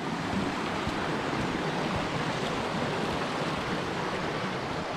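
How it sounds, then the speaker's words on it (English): Cascades of Hareshaw Linn near Bellingham, Northumberland, give a steady, broadband rush of falling water that holds even and continuous throughout, with no voices. "there's a few cascades coming down"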